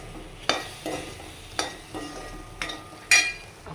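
Spice powder roasts in a hot pan for an onion chutney, with four distinct, sharp spatula scrapes against the metal at roughly even intervals over a faint dry sizzle, close and without speech.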